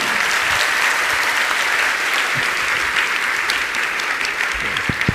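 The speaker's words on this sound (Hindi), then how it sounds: "आपकी ताली नहीं बजी, अच्छे से बजाइए" Dense, sustained applause from a large audience at a Jain monk's religious question-and-answer discourse, steady and loud throughout with no talking over it.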